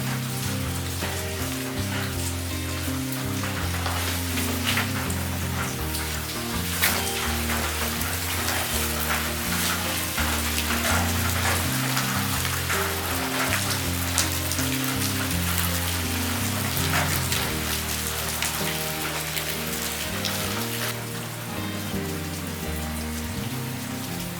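Steady rain pours down throughout, a dense, even hiss with constant patter and no voices.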